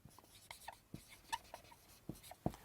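Pen writing figures on paper for a balance sheet, faint close scratches and light taps in an irregular rhythm, quiet with no speech.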